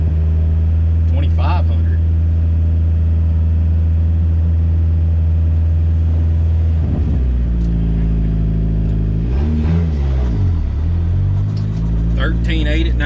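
A turbocharged Dodge Caravan engine idles high at a drag strip, a steady low rumble that swells and wavers in pitch around the middle and near the end, running continuously under someone talking.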